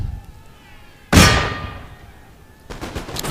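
Infantry musket volley in Empire Total War: one sudden loud crackling blast of massed shots that rings out and fades, then a second, fainter burst of scattered shots near the end.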